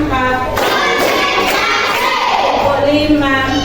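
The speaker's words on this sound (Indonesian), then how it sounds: "Tepuk tangan untuk kita semua." A class of children clap a counted group pattern together, with a few distinct sharp claps standing out amid loud, continuous children's chatter and classroom noise.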